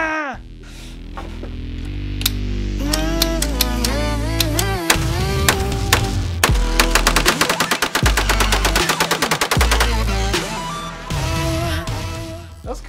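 A 9mm Gatling gun fires in bursts, with close, loud rapid rattling that speeds into a long dense volley in the middle before tapering off, accompanied by ringing mechanical tones.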